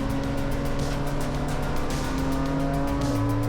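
An old Toyota race car engine howling at steady high revs during a 25-hour endurance race, loud and close with a strong droning pitch that shifts slightly near the end, with no voices.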